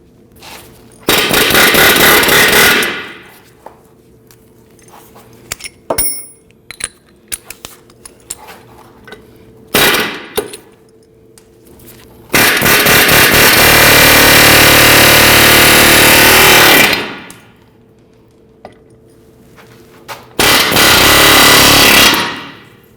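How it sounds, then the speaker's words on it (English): Air hammer hammering out the rivets on a front lower ball joint of a 2009-2017 Volvo XC60, loud rapid pneumatic bursts in several separate runs of a few seconds each, with quieter clanks and pauses between them. "drive them out with the air hammer"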